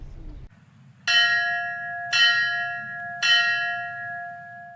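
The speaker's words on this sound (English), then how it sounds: "The sound of bells representing the end of duty and a symbol of honor for Green Bay Lieutenant Paramedic Tyler Kre" Three loud, ringing fire department ceremonial bell strikes about a second apart, marking a firefighter's last alarm at a memorial; each leaves a long, resonant tone that hangs over a low background murmur.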